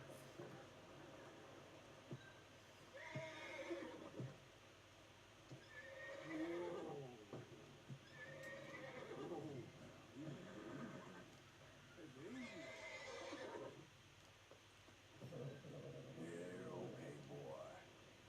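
A horse in the game Red Dead Redemption 2 neighs and whinnies in several separate bursts, with hoof clip-clops and low background hum under a quiet commentary voice.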